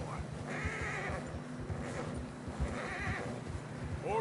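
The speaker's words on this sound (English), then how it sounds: "Horses are getting tired." In Red Dead Redemption 2, horses trudge through fresh snow on a narrow trail, their hooves faint and soft, and a short whinny rises near the end, all at low volume.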